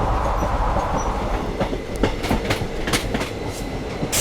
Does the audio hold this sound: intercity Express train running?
yes